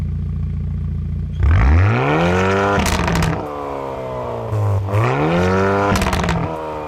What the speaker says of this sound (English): Here's how the Borla Attack exhaust sounds.